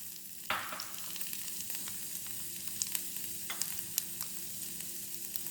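Onions frying in a pan for mutton chops gravy, a quiet sizzle with a sharp clatter near the start and a few light stirring clicks and taps after it, close but faint, with no talk.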